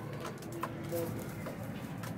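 Pigeons at a pigeon seller's stall give soft, low cooing calls, a few short throaty coos close by over a steady background murmur.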